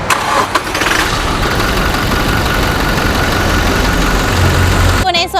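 A 2022 Toyota Hilux Revo 2.4 pickup engine cranks and catches, then settles into a steady, loud idle close by, with a brief clatter near the end.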